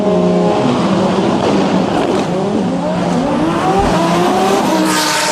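Audi drag race cars launch off the starting line at a DCT World Cup event, loud engines roaring and rising in pitch with tire noise, one car pulling away steadily across the run.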